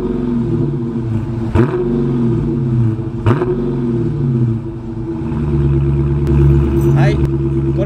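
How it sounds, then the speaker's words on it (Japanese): The V8 engine of a 2016 Chrysler 300 SRT8 sedan with stock exhaust rumbles and revs in short bursts, exhaust note rising sharply a few times over a steady low idle, close by. "この SRT8 結構いい音するんで、排気音を聞いてみたいと思います。"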